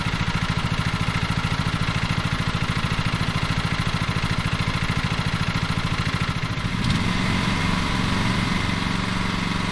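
Lawn mower engine from the game Lawn Mowing Simulator running steadily at a loud, even idle with a fast pulsing putter, shifting to a slightly rougher, deeper throttle tone near the end, with no voices.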